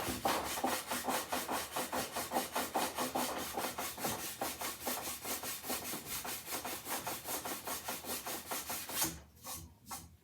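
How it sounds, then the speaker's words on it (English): Rhythmic back-and-forth rasping of 60 grit sandpaper being worked by hand over wood, a steady scratchy stroke repeated roughly twice a second, close and loud, stopping abruptly near the end. "we'll clean that up a little bit with some 60 grit sandpaper"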